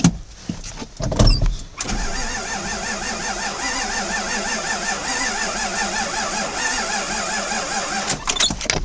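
A 1997 Ford pickup engine, left sitting for ten years, cranks steadily with a repetitive whirring starter sound that never catches, loud and close, ending with a few clunks.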